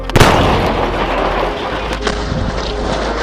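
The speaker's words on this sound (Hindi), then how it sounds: "तो चलो इस ग्रेनेड को कंटेनर में डालते हैं और यहाँ से मैं भागता हूँ।" A grenade explodes inside a container with a sharp, loud boom right at the start, followed by a rough rumbling decay and scattered rattling debris for a few seconds.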